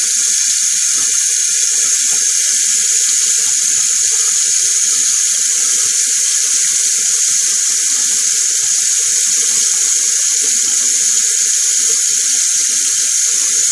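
Tap water runs steadily while a shaving brush is rinsed, a continuous hiss of flowing water that stays close and even, with no talking.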